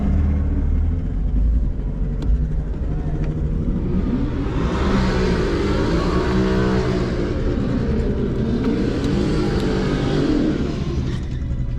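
A manual BMW M4 launches hard down the Famoso drag strip, its engine roaring loud and close as it pulls through the revs, with a dense, steady rumble throughout and rising intensity around the middle of the run.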